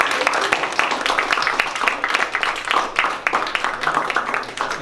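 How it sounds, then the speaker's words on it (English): Audience applause after a business presentation by a company CEO, a steady dense wash of many hands clapping in a room, sustained and fairly loud throughout. "Be nice if you clap now"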